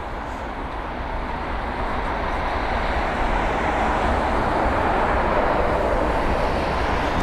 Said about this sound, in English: We have got a Ryanair flying over